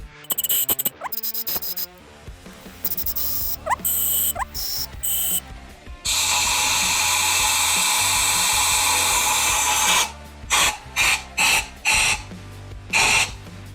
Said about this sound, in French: je vais mettre la soufflette dans les trous, on verra bien si ça fuit